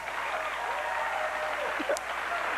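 A television talk show studio audience applauds in a continuous wash of clapping at moderate level, with a voice speaking over it.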